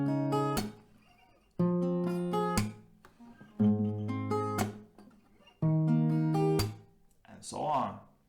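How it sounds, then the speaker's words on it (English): Acoustic guitar picking a melody in four separate phrases, each closing with a chord and a sharp hand clap, then a final short clap-like burst; close and clear with pauses between phrases. "there you have the melody. It goes like this. You can hit a clap after each chord."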